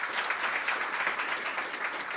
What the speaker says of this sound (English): I would like to invite you to give a round of applause to our panelists.